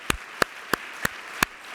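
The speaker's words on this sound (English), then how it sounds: "So if we can just give them another round of applause." A handful of isolated hand claps from an audience at a collective impact convening, five sharp single claps spaced evenly apart over quiet room tone rather than a full round.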